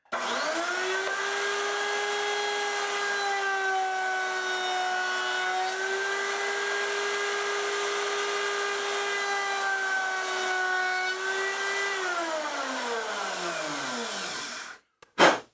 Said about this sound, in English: So this will just be a quick demonstration in case you don't know what a router can do. This is a roundover bit.